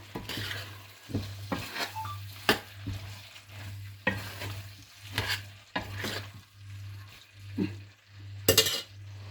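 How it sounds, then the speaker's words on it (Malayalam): Pork and raw banana curry being stirred in a pot with fresh curry leaves added, giving repeated scraping and clinking spoon strokes at an uneven pace over a steady low hum, with no talking. "ഞാൻ കറിവേപ്പില ഇട്ടില്ലായിരുന്നു അപ്പോൾ നമുക്കത് കുറച്ച് ആഡ് ചെയ്ത് കൊടുക്കാം ഒന്ന് മിക്സ് ചെയ്ത് കൊടുക്കാം"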